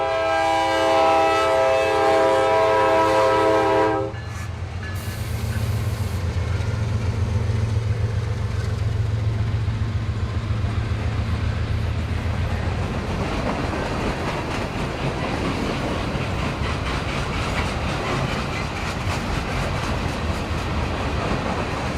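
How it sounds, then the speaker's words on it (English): A Norfolk Southern train at a railroad crossing blasts a loud, sustained horn chord for a few seconds, then its cars rumble and clatter steadily past nearby. "this was the train we caught."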